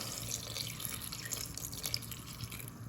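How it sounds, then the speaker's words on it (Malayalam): Water runs and splashes steadily into a pan of pineapple and green chillies for pineapple pulissery, a continuous pouring sound with small drips, close by and without talk. "കുറച്ച് വെള്ളം ചേർത്ത് കൊടുക്കാം."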